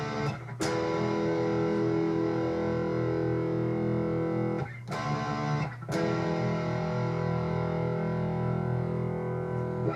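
An electric guitar tuned to drop D plays an intro, with sustained distorted, effects-laden chords ringing out and a couple of brief breaks in between, all on its own and without drums.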